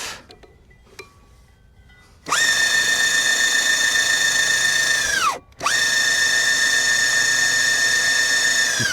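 A belt drive electric skateboard motor starts after a quiet lead-in and runs with a loud, steady tonal whine, with one brief drop and restart midway and no talking.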